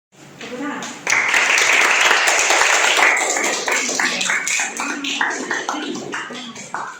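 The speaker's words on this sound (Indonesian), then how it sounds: "tepuk tangan" Classroom applause during a teaching session, a burst of clapping starting after a second and gradually thinning out, with voices talking over and after it.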